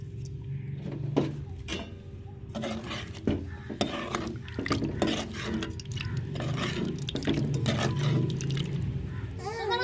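Tamarind water dissolved with masala being poured and stirred into onion kuzhambu in a home kitchen pot, with liquid sloshing, spoon scrapes and clinks against the pan, and a steady simmering background.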